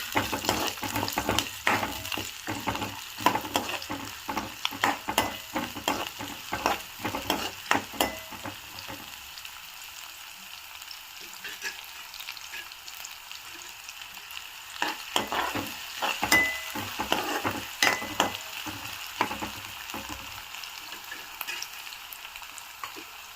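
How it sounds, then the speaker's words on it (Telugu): Onions, curry leaves and green chillies fry in a hot pan for a methi tomato curry, giving a steady close sizzle broken by stirring scrapes; it is louder and busier at first, then settles into a softer hiss. "కొంచెం జీలకర్ర వేగిన తర్వాత ఆనియన్స్, కరివేపాకు, పచ్చిమిర్చి వేసానండి. కొంచెం వేగనిద్దాము."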